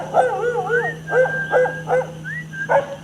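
A dog gives a run of yips, whimpering whines and short barks, close and loud, coming in uneven bursts with brief pauses between them.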